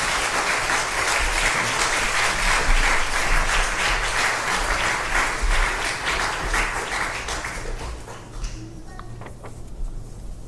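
A church congregation applauds to welcome a pastor, with sustained, dense clapping that fills the room and then thins and fades toward the end.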